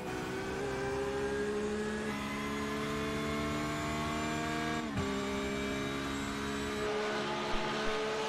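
GT3 race cars run on a circuit with high whining engine tones held steady, a brief dip and shift midway as one car passes, the sustained drone continuing throughout with no voices.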